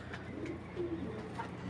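A big-sized racer pigeon coos in soft, low, throaty bursts, two or three murmuring phrases close by over a steady background hum, with no talking.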